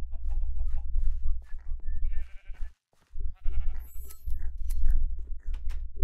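Sheep in the TerraFirmaCraft Minecraft video game give several short bleats over a low, steady rumble of game background sound, with a brief silent gap partway through.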